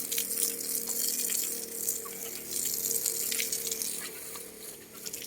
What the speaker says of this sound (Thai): ฉีดน้ำเดี๋ยวน้องมันถูอีก